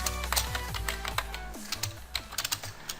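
Keys clicking on a computer keyboard while a Minecraft mod command is typed in, a brisk close run of keystrokes with irregular spacing and a low background hum, no talking heard.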